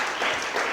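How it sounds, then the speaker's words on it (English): Attendees at a city Board of Aldermen meeting give a brief, moderately loud round of applause, a short burst of dense clapping. "Let's give one more big round of applause."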